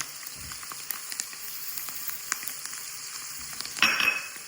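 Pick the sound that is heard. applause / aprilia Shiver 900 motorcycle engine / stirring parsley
stirring parsley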